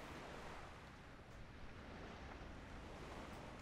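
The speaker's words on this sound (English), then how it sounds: "The waves lapping up there" Steady wash of waves lapping at a shore in a flight simulator scene, continuous and soft like distant surf with a windy hiss, no voices present.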